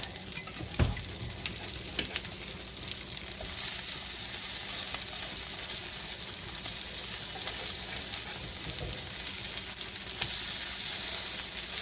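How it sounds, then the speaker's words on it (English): A pan-fried meatloaf sizzles steadily in a skillet, a constant close frying hiss broken by a few sharp clicks and scrapes of a utensil; no voices. "my fried meatloaf is ready to flip"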